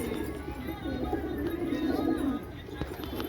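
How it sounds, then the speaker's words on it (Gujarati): Racing pigeons in a loft coo in a low, rolling, continuous murmur, close and fairly loud, with faint background noise and no talk. "બધા કબૂતર ચણે છે"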